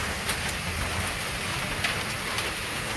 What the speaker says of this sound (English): And the rain start fall.